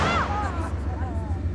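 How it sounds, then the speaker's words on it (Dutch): A cannon fires from an armoured reconnaissance vehicle, a loud booming blast with a rolling low rumble that lingers and fades over a second or so. "dat is dus een kanonschot dat hij afvuurt"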